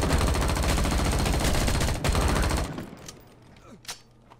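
Frag grenades burst in the survival shooter Dysterra, a loud, dense barrage of blasts for over two seconds that cuts off abruptly, followed by a few scattered fainter pops and a lingering rumble.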